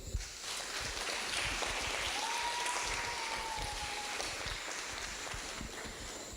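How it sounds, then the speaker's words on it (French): An audience claps steadily at a community event honoring mothers, a dense continuous patter of many hands heard from within the room, moderately loud with no clear voices over it. "Vous pouvez applaudir"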